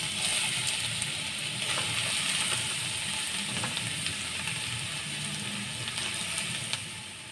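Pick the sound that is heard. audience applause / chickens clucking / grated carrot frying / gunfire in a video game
grated carrot frying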